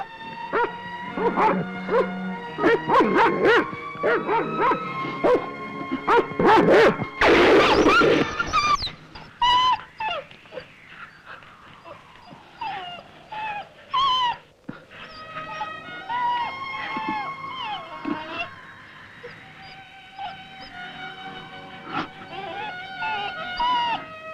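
Several dogs bark, yip and whimper in a film scene, with sharp repeated barks early on, a loud burst midway, then whining and howl-like cries, all fairly close.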